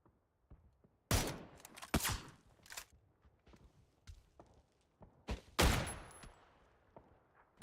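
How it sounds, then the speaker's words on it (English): Gunshots in a PUBG match, one a headshot: several sharp, loud cracks in an irregular sequence, some in close pairs, with quieter thuds and footsteps between them. "Oh, nice headshot by Schiller."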